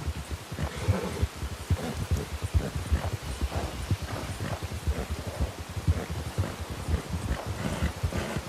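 Horses run close by, their hooves clip-clopping in a quick, steady, rhythmic pattern over a soft rustling background, with no talking.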